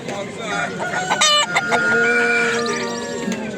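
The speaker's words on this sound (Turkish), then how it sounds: "Orada köy horozları var" Chickens cluck close by while a village rooster crows loudly, several overlapping bird calls in a busy chorus at a chicken market in Izmir.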